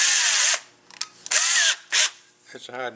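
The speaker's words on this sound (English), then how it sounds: "You know you'll be through when the drill stops" A power drill whines loudly in bursts, starting and stopping several times with short pauses between, close up, boring through a hardened pin in a Carter 3405S lock.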